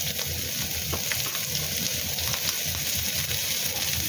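Chopped onion hits hot oil in a pan where ginger is already frying, and a loud, steady sizzle fills the clip with faint stirring scrapes and no voices.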